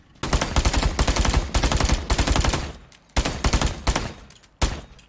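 Rapid automatic fire from an AK rifle in a shooter video game, several sustained loud bursts of gunshots separated by short pauses, with no talking over them.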